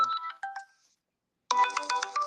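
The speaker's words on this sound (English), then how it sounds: "somebody trying to call me, like, and now they calling my other phone" A phone ringtone from an incoming call plays a bright electronic melody nearby, breaks off into about half a second of silence, then starts again.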